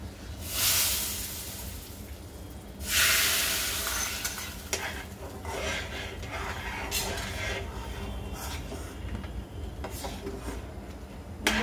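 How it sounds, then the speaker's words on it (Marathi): Hot tempering (phodni) sizzling as it is poured into simmering Gujarati kadhi, a steady frying hiss with a couple of louder surges near the start and stirring scrapes throughout. "तर आपण आता ही फोडणी त्याच्यामध्ये घालूया"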